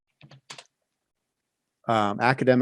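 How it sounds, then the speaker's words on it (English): A short pair of computer keyboard keystrokes clicks in a quiet room, then a voice starts talking over the rest. "And you're going to type in academic"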